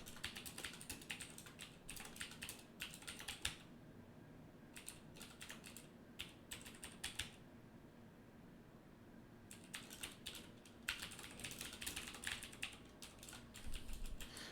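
Rapid typing on a computer keyboard, clusters of crisp key clicks in bursts separated by short pauses, close and fairly quiet with no talking.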